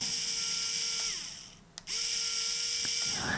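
An ArrowMax mini electric screwdriver whirs steadily at close range, its motor tone stepping down and back up around a brief pause with a small click, then running on with a faint ratcheting rattle near the end.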